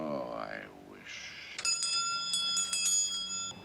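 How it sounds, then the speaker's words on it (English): A doorbell chimes on a 1960 Twilight Zone episode, a bright two-note ding-dong with ringing tones following a brief voice, heard fairly clearly in a short stretch. "Ding dong."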